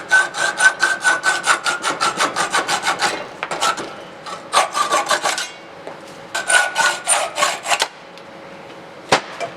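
Custom-made screws for a raccoon-hunting gun are cut down with a hand saw or file, giving bursts of quick, rhythmic rasping strokes up close, separated by short pauses and ending with a sharp tap.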